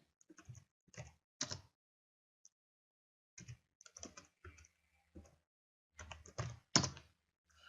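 Keys clatter on a computer keyboard in short bursts separated by pauses. The typing is close and clear, with no voices.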